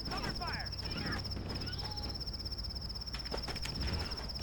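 Crickets chirp in a continuous, steady high trill within the Halo CE beta game, a constant ambient layer over low background rumble and scattered faint game sounds.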